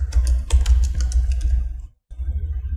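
A name is typed on a computer keyboard in quick irregular bursts of close keystrokes, with a brief pause before more keys are struck.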